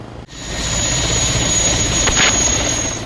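Helicopter from a tour company flying over mountains during a search for a missing climber, a loud, steady rotor and engine drone that holds for about three seconds with no voices.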